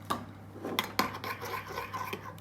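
Gelatin being stirred with glycerin in a bowl, with light scraping and clinking of a utensil against the dish, a few sharper taps amid soft rubbing, close and fairly quiet.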